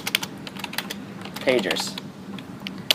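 Someone types a folder name on a computer keyboard in a word-processing session, a run of quick close key taps with a brief louder flurry midway.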